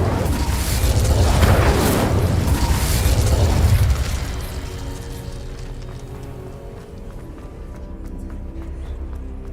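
A fire spell goes off in Hogwarts Legacy, a loud roaring whoosh lasting about four seconds that then drops to a quieter ambient bed with light mechanical ticks.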